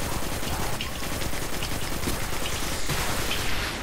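Sustained automatic gunfire in Destiny 2 rattles on as rapid, dense bursts filling the whole stretch, with a brief break near the end before firing resumes, heard alone without talk.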